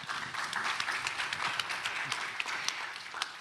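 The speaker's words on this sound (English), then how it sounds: "A big round of applause for all of them." An audience at an academic panel on the Excellence Initiative – Research University programme gives the professors a round of applause: close, steady clapping with sharp individual claps standing out, fading slightly at the end.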